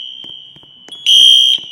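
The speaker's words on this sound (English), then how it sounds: "Library fire alarms. Really loud in real life." Wheelock NS fire alarm in a school library, one loud piercing horn blast lasting about half a second over a constant high-pitched strobe whine, with faint background clicks before it.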